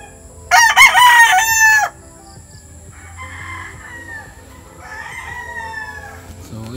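A rooster crows once loudly and close at a hillside game farm in Montalban, Rizal, a long strained call, followed by softer clucking and murmuring from hens in the background.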